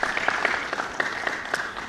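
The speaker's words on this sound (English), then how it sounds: "A big round of applause for her" An audience at a public forum on parliamentary oversight claps for a guest, a moderately loud, steady round of applause with a few sharper individual claps standing out.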